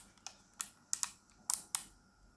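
Adjustment lever on a VGR V276 hair clipper being flicked through its positions: a series of about five or six sharp, close plastic clicks at uneven intervals in a quiet room.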